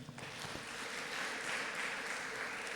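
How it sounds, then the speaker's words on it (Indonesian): A congregation at a wedding preparation church service gives a round of applause, soft and distant-sounding, a steady wash of many hands clapping that holds evenly through the short stretch. "Terima kasih, boleh kita berikan tepuk tangan."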